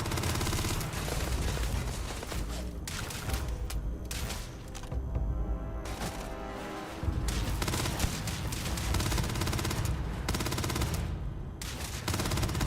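Rapid, sustained automatic gunfire from a weapon in the sci-fi game Starfield, bursts following one another with short gaps, loud and close throughout.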